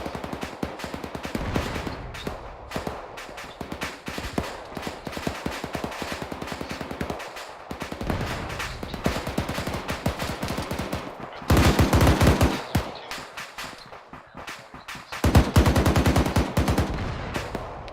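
A .50 caliber machine gun fires in a military video game, sustained rapid automatic bursts hammering close and loud, with louder surges in the later stretch and no talking.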